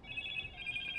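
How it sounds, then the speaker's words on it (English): A telephone rings with a high electronic trilling ringtone that sits faintly over a low background rumble for about a second. "Hush phone."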